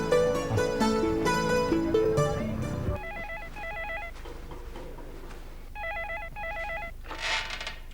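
A telephone rings in two separate bursts of repeated double rings, each clear and fairly close, after a stretch of music with no talk.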